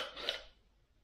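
A knife blade is drawn once through a small roller sharpener, a brief, quiet metallic rasp lasting under half a second that fades out quickly.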